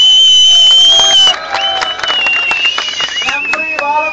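A studio audience claps and cheers after a story in a Turkish entertainment show, with loud, dense applause at first that thins slightly while voices carry on over it.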